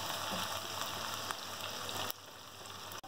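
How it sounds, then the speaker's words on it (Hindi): Onions frying in hot oil in a pan: a dense, steady sizzle and crackle that holds close and loud throughout, with a slight drop in intensity near the end. "प्याज को हम इतना फ्राई करेंगे कि गोल्डन ब्राउन का कलर आ जाए"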